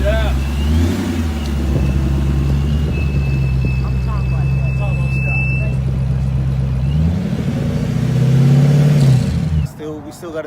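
A car engine fitted with a ProCharger supercharger idles loudly and close, then revs up and settles, with a steady whine riding above the engine note and a voice talking over it.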